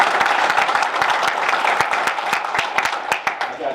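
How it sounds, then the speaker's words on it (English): A board meeting audience gives a steady round of applause, dense clapping from many hands filling the room evenly for several seconds with no talk over it. "This would be a good opportunity and place to give a round of applause for those achievements."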